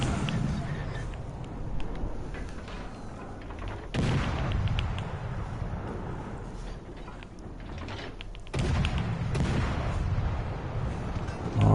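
Naval gunfire in World of Warships, heavy booming salvos with a sharp onset near four seconds and again near eight and a half seconds, over a dense rumbling battle bed.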